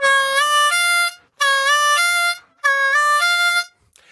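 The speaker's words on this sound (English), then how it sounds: "this is using the blues scale in second position on a C harmonica" Fast blues lick on a C harmonica in second position, bent draw notes played as three quick bright reedy phrases, each a rapid run of tones, close and alone with short pauses between.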